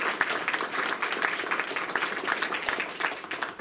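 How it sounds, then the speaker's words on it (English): A crowd applauding at a Law Day 2023 event honoring teachers and students, continuous dense clapping at moderate level, fairly distant and even for the whole stretch. "let's just give it a round of applause"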